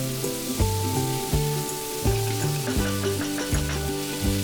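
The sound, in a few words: sliced tomatoes frying in a pan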